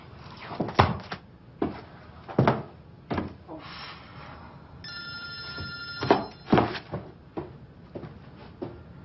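A telephone in a home rings in a short burst of bright, repeated tones, set among dull knocks and thuds of doors or cupboards, close and moderately loud.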